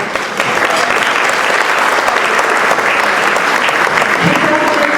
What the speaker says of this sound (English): I said give him a round of applause